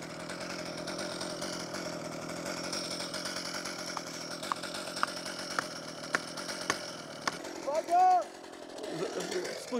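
A chainsaw drones steadily at a distance while a tree is felled in a forest, with a faint voice speaking over it and a brief whistle-like tone near the end.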